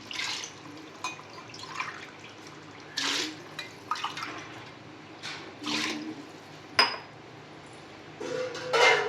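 Water measured out and poured into a cooking pot for mutton biryani in a home kitchen, heard as a series of separate splashing pours and trickles with light clinks of a vessel between them, fairly close and with no talking.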